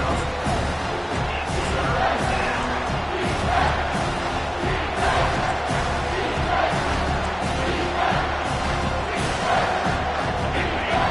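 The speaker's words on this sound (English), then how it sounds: "Third down, and this crowd is tearing the lid off this place." A college football stadium crowd at Pitt versus Miami roars on third down, a dense sustained wall of cheering and shouting that stays loud throughout, with an announcer's voice faintly under it.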